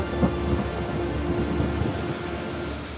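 Heavy, unending rain from the great flood in an animated Bible story, a dense steady hiss with a low rumbling undertone like distant thunder, continuous and enveloping, no talk.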